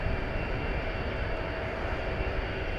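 A jet airliner taxiing at DFW Airport in the evening produces a steady, continuous engine roar and hiss with no break, close and fairly loud, with no voices over it.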